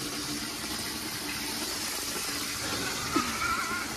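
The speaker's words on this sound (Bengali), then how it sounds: "এবার কলটা চালাও, কলটা চালাও।" Steady broadband rush of water running from a tap, filling continuously and filling the space, with a brief clunk near the end and no talking.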